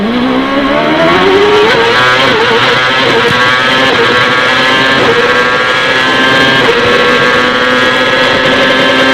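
A loud race car engine on the Long Beach street circuit in 2002 holds a steady, high droning tone, its pitch rising slowly and dipping briefly, with no voices.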